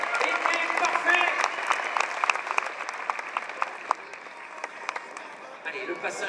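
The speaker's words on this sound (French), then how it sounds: "ça vous pouvez applaudir parce que le geste était parfait" A crowd applauds at a live sporting event, fairly soft scattered clapping that runs throughout, with an announcer's voice speaking over it at the start.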